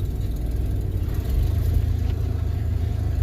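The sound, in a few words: truck engine cranking over to start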